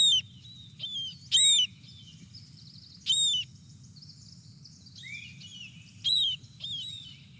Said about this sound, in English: I just wanted to play for you all what marbled murrelets sound like